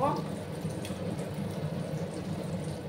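Eggs fry in a pan while a cauliflower, egg and potato curry is being made, giving a steady, close, bubbling sizzle that runs throughout, with a voice briefly heard.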